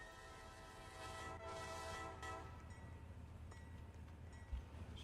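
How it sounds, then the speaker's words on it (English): A train rumbling past from a cab in an industrial spur, a steady low roar with tonal horn-like harmonics early on and a brief clunk near the end, no talking. "we're about to pass your train here"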